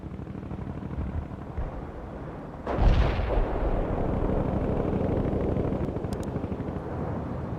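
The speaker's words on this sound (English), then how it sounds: "you must support him with artillery fire, Romanov." Artillery fire in the World in Conflict strategy game starts with a heavy booming impact, then a sustained rumbling barrage that continues loud.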